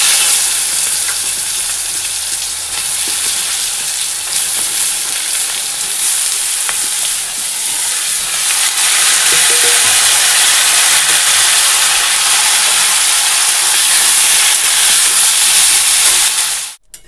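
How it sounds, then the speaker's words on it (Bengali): Fish frying in hot oil with black cumin seeds added, a steady loud sizzle and hiss that runs almost unbroken for about seventeen seconds with small crackles, then cuts off abruptly at the end. "এই যে মাছ ভাজা তেলের মধ্যেই কালো জিরা ফোড়ন দিয়েছি"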